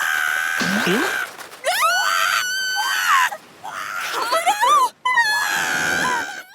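Karu the duck from One Piece screaming in an anime scene, a series of shrill, wavering cartoon squawks and wails in short bursts separated by brief gaps.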